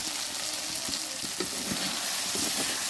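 Fried shrimp and bean seeds stirred together in a pan hiss with a constant close sizzle, broken by light scrapes and taps from the stirring utensil.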